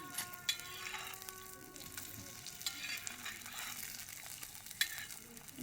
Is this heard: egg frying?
yes